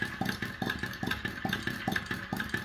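A gas-heated two-cylinder flame eater (vacuum) engine runs steadily, each firing stroke giving a soft rhythmic thump at a brisk, even pace, with a faint mechanical clatter over a constant background hiss.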